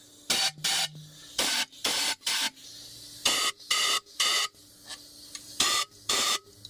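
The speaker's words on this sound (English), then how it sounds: "And then I'm just going to use a little bit of compressed air here." Short bursts of compressed air clean out the intake area of a Nissan Frontier, Xterra or Pathfinder engine with the manifold removed, giving about a dozen sharp, loud hissing blasts in an irregular rhythm close to the mic.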